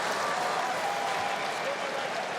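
A rugby crowd at a World Cup pool match between Ireland and Romania applauds both teams in a dense, steady wash of clapping and cheering from a large stadium audience.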